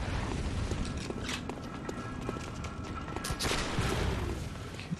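A rifleman enemy firing in Bloodborne: scattered sharp cracks and clattering impacts sound over a steady gritty background, moderately loud, with a denser burst of noise toward the end.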